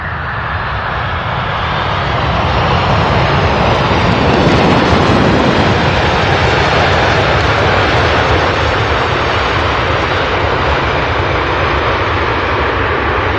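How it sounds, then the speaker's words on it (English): Cargo jet planes roar steadily at UPS Worldport, SDF airport, at night, a loud, continuous engine rumble and whine that swells slightly early on and holds, with wind buffeting the microphone. "The sound on these planes."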